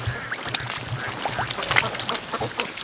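Several soft, short quacks from a female Muscovy duck outdoors on a free-range homestead, scattered irregularly over a low background rumble, with no talking.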